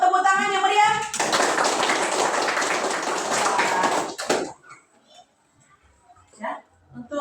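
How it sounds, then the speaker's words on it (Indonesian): Pupils in a fifth-grade classroom clap together for group 3, a dense, steady burst of many hands lasting about three seconds, preceded by a teacher's voice and fading into quiet afterward. "Ayo tepuk tangannya meriah."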